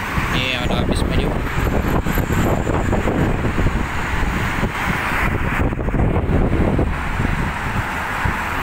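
A medium-sized bus rolls past on a busy road during evening rush hour, its broad engine rumble and wind-like roar loud and sustained throughout, with other traffic blending in.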